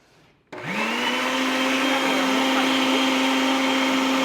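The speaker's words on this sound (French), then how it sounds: "Donc, on va mixer." A blender switches on abruptly and runs steadily, a loud whirring motor blending avocado sauce with a constant pitched hum and no pauses.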